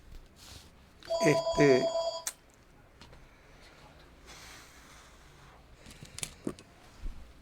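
Telephone ringing during a Spanish-language lecture on being and entity, a couple of short electronic ring bursts, fairly close, followed by quieter room sound and faint voices.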